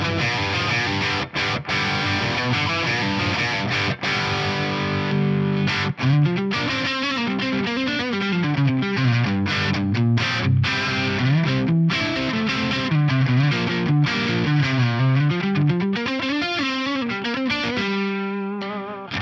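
Electric guitar played through a Class A 30-watt rock amp model on a Fractal FM3 modeler with a bit of reverb: continuous distorted chords and melodic lines, loud and close, without speech.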